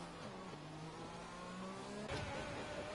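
A Formula 1 race car engine in the F1 2020 racing game at the Canadian Grand Prix revs steadily, its pitch shifting as it rounds a corner, with a brief louder burst near the end and no talk.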